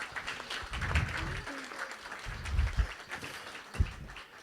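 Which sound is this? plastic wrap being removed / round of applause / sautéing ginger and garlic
round of applause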